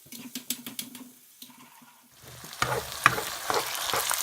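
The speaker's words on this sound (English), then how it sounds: "fry up some eggs while stirring constantly" Eggs fry with onion and garlic for Thai fried rice with prawns while being stirred constantly. It opens with a few clacks of the utensil against the pan, then a sizzle swells into a busy, crackling fry.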